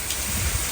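Torrential rain near an Aldi shop pours in a dense, steady hiss with a low rumble underneath, heard briefly in one continuous wash with no voices.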